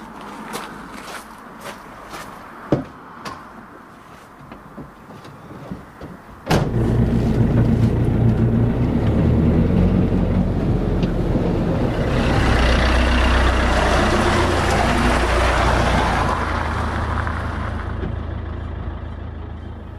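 Iveco Daily van on a test drive after a clutch replacement with new dual-mass flywheel, master and slave cylinders and oil seal: a few footsteps and a sharp door clunk, then the engine fires and a loud, steady driving rumble continues.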